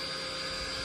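An Ultenic U18 Pro cordless vacuum runs in floor mode for hard floors, giving a steady, close, high-pitched motor whine with no change across a brief moment.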